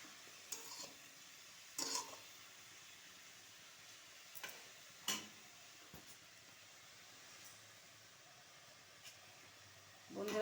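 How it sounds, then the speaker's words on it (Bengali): Leafy greens with turmeric stirred in a pan, heard as a few faint, scattered spatula scrapes and taps against a quiet background, ending with a louder clatter as a lid goes on. "শাক নাড়াচাড়া করে এবার ঢাকা দিয়ে দেবো"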